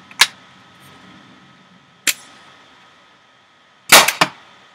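A Tippmann TCR paintball marker fires four sharp, close shots: single shots near the start and at two seconds, then a quick pair toward the end, each a crisp snap with quiet gaps between.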